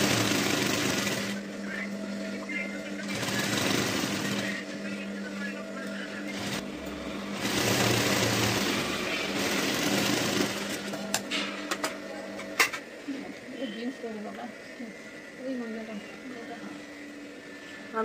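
A sewing machine joins fabric pieces for a blouse, running in several steady whirring bursts with pauses between them. A voice talks quietly in between and in the second half.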